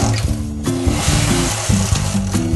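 A domestic knitting machine worked with levers brought forward to stop some needles knitting, giving a steady close mechanical whir and clatter with rhythmic carriage strokes, no voice.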